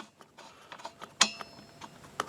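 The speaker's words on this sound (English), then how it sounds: "Take the plug out." A spark plug wrench ratchets and clicks while working a spark plug out of a Stihl blower, a series of close, sharp metallic ticks with one louder clack partway through.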